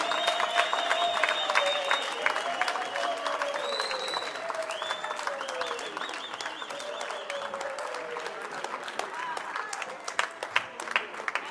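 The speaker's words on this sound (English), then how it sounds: "Let's give them a round of applause until they reach the stage." A conference hall audience at a youth crime prevention event in eThekwini applauds junior commissioners walking to the stage, with steady dense clapping throughout and a few faint voices mixed in.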